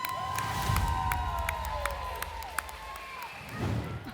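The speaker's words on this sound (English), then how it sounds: "Who's that screaming with the baby?" A young girl screams in a cheering studio audience at a televised game show, shrill calls cutting over crowd noise, with people talking throughout.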